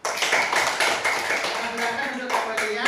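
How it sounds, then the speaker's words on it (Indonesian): A small group of students claps together in a burst of fairly close classroom applause, uneven and brief, with some voices mixed in. "Kita berikan tepuk tangan kepada kelompok 2."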